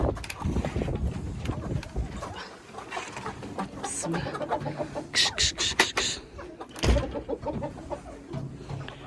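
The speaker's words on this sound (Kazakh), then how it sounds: "Міне мен тауықтарым" Domestic hens kept at home, some of them Lohmann Brown layers, clucking near the microphone amid rustling, wind buffeting and scattered bursts of noise, with a person speaking at times.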